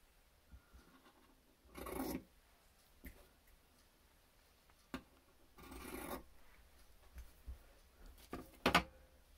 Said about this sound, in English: So now we just need to cut off the excess.